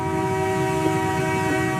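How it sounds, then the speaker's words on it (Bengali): An approaching train, used as a sound effect in a CapCut edit, sounds a loud, sustained horn over a low rumbling rail roar, steady and continuous throughout with no voices. "কারণ ট্রেনটা আসতেছে, ওই জিনিসটা রাখতে হবে।"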